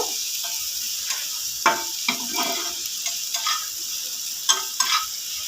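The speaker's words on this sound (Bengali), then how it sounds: "ক্যাপসিকাম কুচি সামান্য সামান্য লবণ ভালো করে ভেজে নেব" Chopped capsicum and carrot fry with a little salt in a pan for a quick rice and semolina snack, a steady sizzle broken by several sharp scraping stirs of the spatula.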